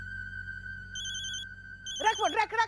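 An electronic telephone ringtone trills in a steady tone with a higher chiming phrase over it, and a voice briefly speaks over the ringing near the end.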